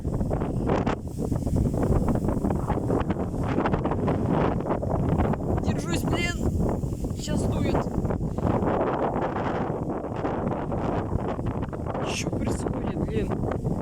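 Strong storm wind gusts sweep across an open field at about 23 metres per second, roaring and buffeting the microphone continuously with broadband rumble, while someone speaks now and then over the blustering.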